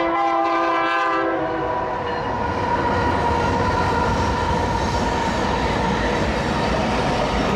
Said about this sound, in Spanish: miren, un tren de carga pasando